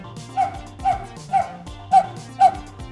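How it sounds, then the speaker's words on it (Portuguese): Higher-pitched synthetic dog barking sound effect from a programming tool, five short yappy barks at an even pace, close and clear over a busy electronic background. "Agora o latido está mais fininho."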